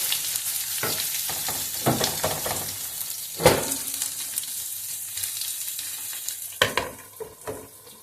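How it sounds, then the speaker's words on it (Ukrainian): Onions sizzle steadily in a hot pan, with a few stirring scrapes and clatters along the way. "на розігріту сковорідку висипаємо цю цибулю, щоб вона підсмажилася до золотистого кольору"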